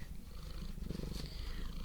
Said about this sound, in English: The cat is vibrating.